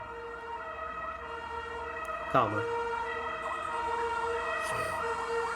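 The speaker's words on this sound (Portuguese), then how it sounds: "A ambulância tá passando, ó." An ambulance or fire engine siren wails past on a Brazilian street, a steady rising and falling tone at moderate distance with traffic noise beneath, while someone speaks briefly over it.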